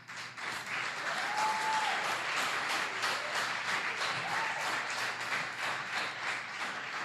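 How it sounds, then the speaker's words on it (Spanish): A church congregation applauds the fathers during a Spanish-language service, steady dense clapping sustained at even loudness throughout, with a brief faint voice-like tone early on. "den un aplauso a los papás."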